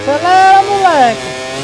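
A MotoGP 24 racing-game motorcycle revs hard for under two seconds, its loud buzzing engine note rising and falling, with a voice shouting over it.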